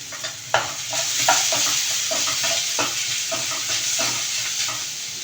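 Chopped onion and a piece of ginger sizzle in hot oil in a pan, a steady loud frying hiss broken by repeated scraping stirs.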